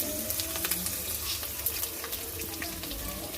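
Peanuts with green and dry chilies frying in a pan, a steady close sizzle and crackle with small scattered pops throughout, no voices.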